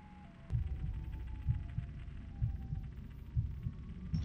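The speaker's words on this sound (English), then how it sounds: "Why am I heart beating?" A steady, low heartbeat throbs through a Sirenhead horror video game, thudding about once a second at a fairly loud level over a faint hum with a brief high tone.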